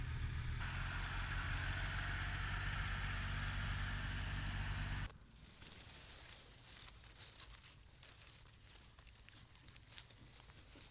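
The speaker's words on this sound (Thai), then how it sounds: "รถไถนาสามคันเลยเพื่อนๆจ้ะ" Three farm plowing tractors run together, with a loud, steady low engine drone for about five seconds that cuts off sharply, leaving quieter rustling outdoor sounds.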